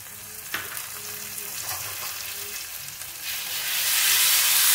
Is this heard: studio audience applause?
no